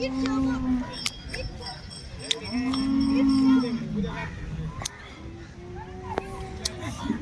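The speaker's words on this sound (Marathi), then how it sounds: "चला तर आज गाया बघूया लोणी मार्केटच्या" Several cows moo loudly and near at the Loni cattle market, long drawn-out calls overlapping, amid a busy outdoor crowd with people talking in the background.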